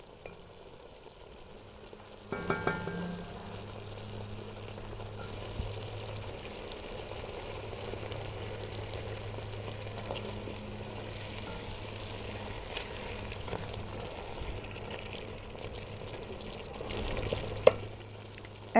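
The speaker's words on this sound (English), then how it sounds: "I always put the chopped tomatoes first because they need to cook a little more than the strained tomatoes" Chopped tomatoes cooking in a pot for ragu sauce, a low, steady simmering sizzle with occasional faint stirs and a couple of clinks near the end.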